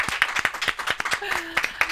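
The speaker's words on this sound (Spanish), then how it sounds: "Un aplauso muy grande para Sara García Alonso." An audience claps for guest Sara García Alonso, the first Spanish woman astronaut, at a live talk: quick, steady, close applause from a modest crowd, with a voice briefly heard over it.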